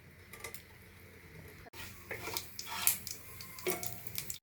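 Fenugreek seeds hit hot oil already used for frying okra and mustard seeds, giving a soft, crackling sizzle that swells midway, with a few light clinks of a spoon against the pan.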